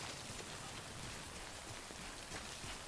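Heavy rain pours down steadily in the video game Death Stranding, a dense, even hiss of falling drops at low level with no other sounds.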